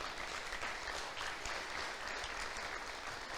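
A church congregation applauds together during a sermon, a steady, faint wash of clapping that holds evenly throughout without any voices over it.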